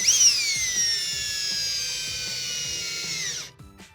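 Power drill driving a screw tight while installing a shim, one continuous high whine that slowly falls in pitch and then cuts off abruptly near the end.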